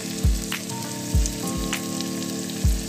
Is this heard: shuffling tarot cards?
no